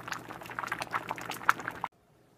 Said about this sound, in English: So now I'm going to drain the rice